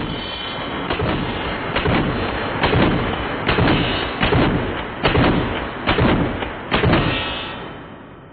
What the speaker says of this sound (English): That's one fast cycling shotgun.